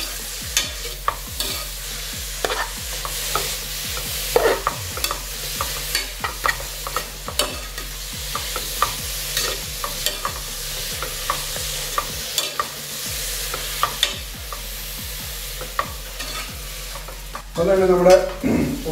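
Onions sautéing in a pan for Andhra mutton curry make a continuous low sizzle, broken by frequent rhythmic scrapes and clicks of a stirring spoon, with a louder clatter near the end.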